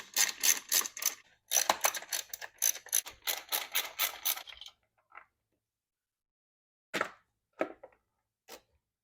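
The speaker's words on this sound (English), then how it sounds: "Next, remove these three 10 mil bolts for the radiator plastic covering." A ratchet clicking rapidly in two long bursts while backing out 10 mm bolts from the radiator plastic cover of a Kawasaki Vulcan 750 motorcycle, followed by a few faint clicks and short metallic handling sounds, close and crisp in an otherwise quiet space.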